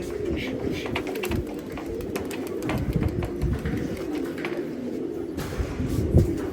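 Released flock of about forty-five Giribaj pigeons, cooing steadily and loudly outdoors, with wing flutters and rustling mixed in throughout.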